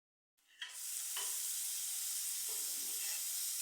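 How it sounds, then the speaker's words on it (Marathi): Cumin seeds and onion hit hot oil for a tempering in a bitter gourd recipe, bursting into a sudden bright hiss that settles into a steady, fairly quiet sizzle with a few faint stirring sounds. "जिरे आणि कांदा घालून फोडणी करून घेऊया"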